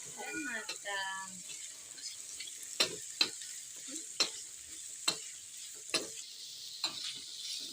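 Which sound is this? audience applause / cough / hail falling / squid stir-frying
squid stir-frying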